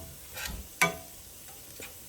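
A spoon scrapes briefly through diced tomatoes in a pan with vegetable broth, a sharp clack against the pan standing out amid faint, quiet stirring sounds.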